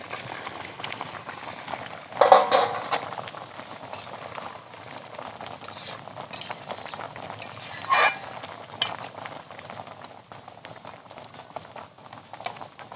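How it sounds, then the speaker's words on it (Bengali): Water boiling in a cooking pot as fish are added for a Kajolgouri fish curry, a steady bubbling roil with a louder splash and stir near the start and another burst of agitation later. "জল ফুটে উঠছে, মাছগুলো দিয়ে দেবো।"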